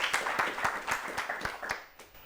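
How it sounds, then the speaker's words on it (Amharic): An audience on a children's television quiz show applauds two girl contestants, a steady run of claps with evenly spaced sharp accents that tails off slightly at the end, with no one speaking. "ሁለቱም አጨብጭቡላችሁ ደግማችሁ"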